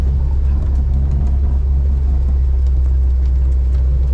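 Steady, loud low rumble of a Renault 4 exhaust idling close by, a continuous throaty drone with no voices.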